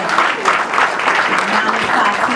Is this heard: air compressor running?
no